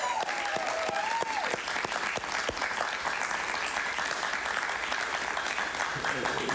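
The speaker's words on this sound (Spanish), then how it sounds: "Alexis Valdés, un aplauso para él," Studio audience applause greeting a comedian on a television talk show, dense and sustained clapping throughout with a tonal sweep near the start and a voice faintly beneath.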